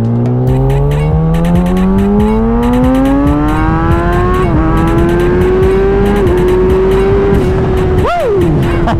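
A 2016 Kawasaki ZX-10R sport motorcycle accelerates hard up to highway speed. The engine note climbs steadily through several gear changes and stays loud and close, with rushing wind throughout and a brief sweeping pass near the end.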